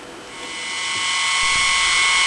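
A milling cutter slots aluminum as chips pack into the cut, giving a steady high-pitched whining grind with strong tonal lines that grows gradually louder and harsher over a couple of seconds, close and alone without talk.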